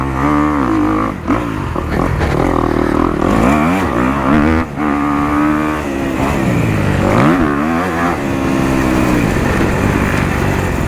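A stock 2023 Kawasaki KX250 dirt bike rides over bumps on a track, its engine loud and close the whole time with rising and falling revs that waver as the bike jolts through the rough ground.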